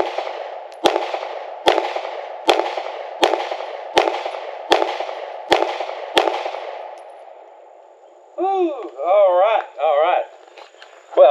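A SIG P365-FUSE pistol fires eight evenly spaced, sharp shots at close range, each followed by a short echo. A few brief electronic chirps come after the shots.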